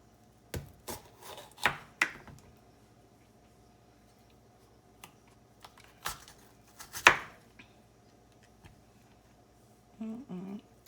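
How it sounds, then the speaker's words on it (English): A knife cuts up a bell pepper on a board while gumbo is prepared from a package mix, giving a few scattered, sharp chopping taps with quiet gaps between them, close by and fairly soft, with no talking. "I'll go ahead and cut up my bell pepper"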